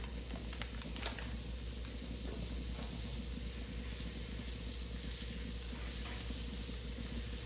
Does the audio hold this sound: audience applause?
no